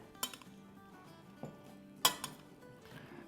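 A spoon mixing chana papdi chaat ingredients in a bowl, faint scattered clinks and scrapes of metal against the dish, with a couple of sharper taps in an otherwise quiet room and no talking.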